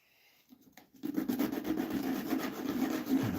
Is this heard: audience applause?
no